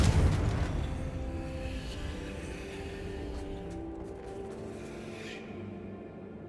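A fire-spell blast from the Hogwarts Legacy video game opens with a loud low boom that slowly fades into a rumbling, crackling tail, with no voices over it.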